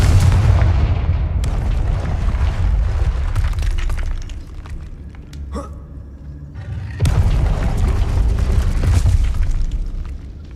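Confringo fire spell in the Hogwarts Legacy video game, a loud sustained booming blast with heavy low rumble, dipping briefly before a second strong burst of explosive roar.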